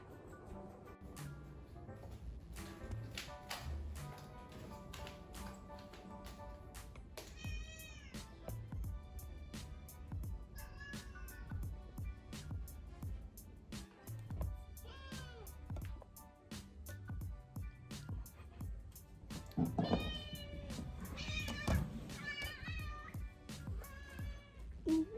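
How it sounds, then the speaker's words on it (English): A pet cat meows several times in short, repeated calls at close range over a bed of background sound. "my cat is here"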